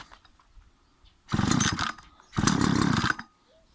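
A Sparta 25 machine is switched on in two short bursts of loud motor running, each lasting under a second, separated by a brief pause and framed by quiet.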